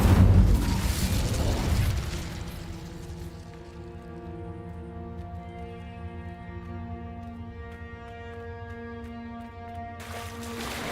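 An Incendio fire spell cast in Hogwarts Legacy, a sudden loud whooshing burst that fades over about two seconds into a low, steady, ringing drone that lingers.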